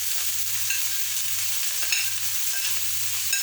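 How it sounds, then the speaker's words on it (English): Vegetables sizzle and crackle in a hot pan for ackee and saltfish, a steady close frying hiss with a few light stirring scrapes and no talking. "So I'm just gonna fry up these vegetables."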